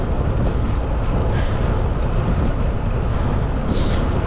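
Strong wind buffeting a microphone beside a lake in Toronto, a loud continuous roaring rumble that fills the whole stretch with no pause.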